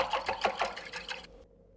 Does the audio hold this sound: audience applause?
no